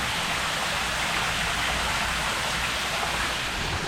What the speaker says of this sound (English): See, I just had a heavy downpour. It was overflowing because it wasn't keeping up.